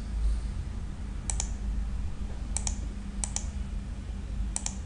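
Computer mouse clicking during desktop charting software work, four quick pairs of sharp double clicks spaced irregularly over a steady low hum, close and alone.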